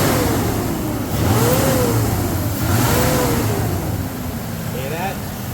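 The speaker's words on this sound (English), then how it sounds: "Now this is what a fan clutch that's working should sound like." A 2002 Ford Ranger six-cylinder engine with a working fan clutch, running close up with a steady mid-pitched hum and a couple of revs that rise and fall, the fan whir blending into the engine sound.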